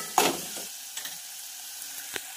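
Black pepper powder and ginger-garlic paste stirred into fried chicken in a pan for chicken soup: a quiet sizzle with a sharp scraping stir near the start and a few light spoon knocks after.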